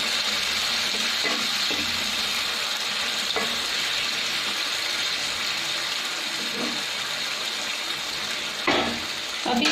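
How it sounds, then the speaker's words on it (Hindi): A cup of water is poured into a ridge gourd and potato curry in a hot pan, giving a steady loud sizzling hiss with faint stirring and clinks throughout, and no talk over it. "अभी इसमें एक कप पानी दे रही हूँ।"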